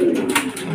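Racing pigeons arrive at a loft, giving a short, soft coo against light background noise.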